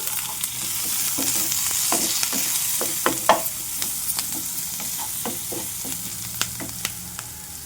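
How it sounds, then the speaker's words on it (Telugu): Onion and green chilli pieces fry with a steady sizzle in a pan while turmeric is stirred in, a spatula scraping and tapping the pan in repeated sharp clicks. "ఉల్లిపాయ ముక్కలు పచ్చిమిరపకాయ ముక్కలు కొంచెం ఫ్రై అయిపోయాయి ఇప్పుడు కాస్త పసుపు వేస్తున్నాను"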